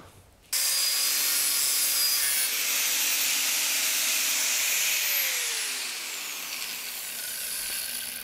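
An angle grinder disc cuts into the metal of a Peugeot 106, starting abruptly into a loud sustained whining grind with a steady high tone that slowly drops in pitch as the cut bites.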